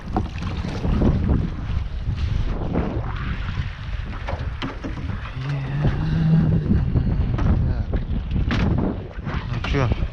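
Strong wind gusts over open water on a fishing trip to check longlines for perch and ide, roaring and buffeting the microphone with a choppy, continuous rush, while faint voices are heard underneath.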